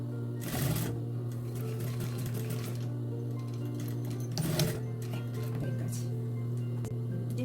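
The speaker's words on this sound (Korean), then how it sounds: "이렇게 심지 붙인 거 따라서 이렇게 박아주시면 돼요" A sewing machine stitches fabric along interfacing for a doo-rag, its rapid mechanical whirring running steadily over a constant low motor hum, with a few louder bursts and clicks, close and alone without speech.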